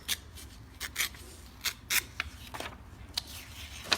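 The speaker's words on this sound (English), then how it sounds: "Again, I'll trim it using my fingers" Folded paper for a book slipcase is torn and trimmed by hand, producing a string of short crisp rips and rustles, close and fairly faint, with no talk.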